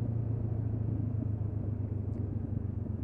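A Honda CB500X adventure motorcycle rolls slowly past close by, its steady low engine rumble holding throughout over windy outdoor noise, with no sharp rise or fade.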